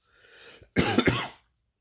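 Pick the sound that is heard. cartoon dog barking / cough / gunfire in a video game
cough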